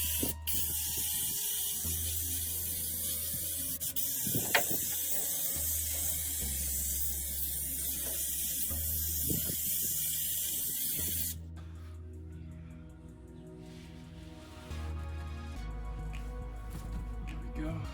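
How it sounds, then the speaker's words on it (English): Adhesive sprayed from an aerosol can during Geo Tracker interior upgrades: a few sustained hissing bursts close to the mic, then quieter handling noises after the spraying stops. "So I'm gonna spray some adhesive down first"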